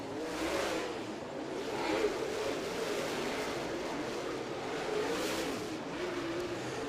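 Race cars lap the dirt oval at Coles County Speedway, engines roaring and revving continuously with swelling passes and fading throttle, heard from a distance as a dense, loud motor drone.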